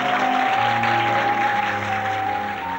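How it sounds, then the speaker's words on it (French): Steady crowd applause fills the whole stretch, dense and even, with a sustained tone running underneath. "Applaudissez le lieutenant Matthew Tennyson, grâce à qui nous sommes débarrassés des pirates."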